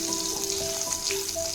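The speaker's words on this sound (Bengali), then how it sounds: "এই তেলেতেই আমি দিয়ে দিচ্ছি স্লাইস করা কাঁচা লঙ্কা।" Sliced green chilies fry in hot oil, giving a short, steady, close sizzle with a faint tonal hum underneath and no voices.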